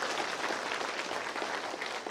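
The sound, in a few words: applause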